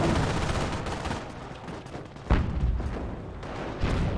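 Dense gunfire from the video game Company of Heroes, with a continuous clatter of rifle and machine-gun bursts, a sharper heavier shot near the middle and more bursts toward the end, all loud and unbroken.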